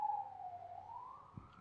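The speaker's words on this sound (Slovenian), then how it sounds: "Rešilce, upam, da slišal rešilce" A faint, distant ambulance siren wails outside, one long, slowly rising and falling tone over quiet background hum.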